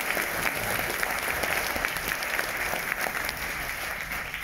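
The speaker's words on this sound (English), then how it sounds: "a big round of applause for our Jessica." Audience applause at a film festival event at ARC Stockton, a dense, steady wash of clapping from a sizable indoor crowd lasting several seconds without letting up.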